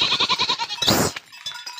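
Goats grazing in the rain bleat in a rapid series of wavering, nasal calls, followed by one longer, louder cry and then softer scattered sounds.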